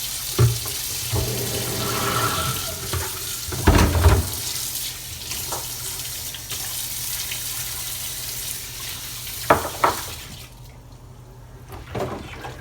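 Tap water runs steadily into a sink during the cleaning of a Telecomet Japanese terminal, a close, continuous splashing stream with occasional clunks and handling noises, fading quieter near the end; no one speaks.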